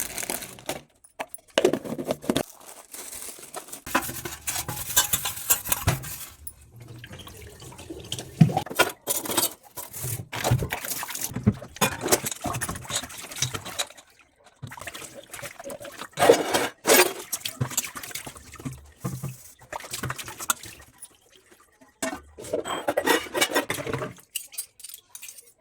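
Dishes being washed in a home kitchen sink during daily chores: steady clattering of utensils, plates and pans with splashing water, loud and close, no voices.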